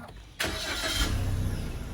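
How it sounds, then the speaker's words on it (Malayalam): A Toyota Urban Cruiser automatic with a 1.5L engine starts with a sudden broadband burst, then settles into a quiet, steady low idle hum close by. "ഇപ്പോൾ വണ്ടി നമ്മൾ സ്റ്റാർട്ട് ചെയ്യുകയാണെങ്കിൽ തന്നെ"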